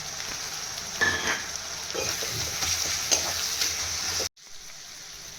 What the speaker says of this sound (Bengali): পেঁয়াজ আদা রসুনটা ভালোভাবে কষা হয়ে গেছে